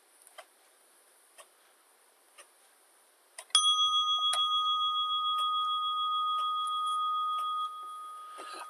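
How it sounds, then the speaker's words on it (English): A meditation bell is struck once, ringing out loudly and close with a clear sustained tone that slowly decays. Faint, sparse ticking comes before it. "At the sound of the bell, we'll begin the meditation"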